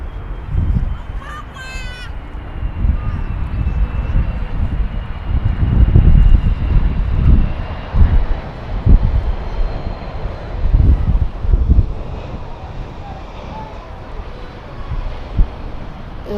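Airbus A330 on final approach to landing at Perth Airport, a steady broad engine roar with gusty wind buffeting nearby, a crow cawing briefly early on.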